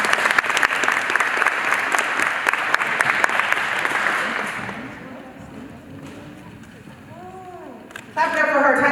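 Audience applause at a girls flag football event rings out for Miss Tamar, a dense burst of many hands clapping that fades after about four seconds into quieter outdoor ambience with scattered voices and a brief chirpy sound near the end.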